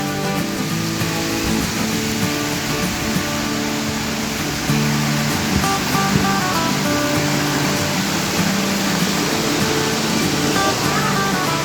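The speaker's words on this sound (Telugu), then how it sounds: "వాటర్ ఫాల్ ఇది. ఫ్లో తక్కువనట్టుంది." Minamaluru waterfall running at low flow makes a steady, loud wash of falling water that fills the whole stretch without a break, with faint tonal sounds beneath.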